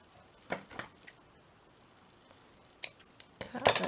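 Scissors snip through paper for an origami Christmas decoration, a few scattered crisp cuts then a denser flurry at the end, close and fairly quiet.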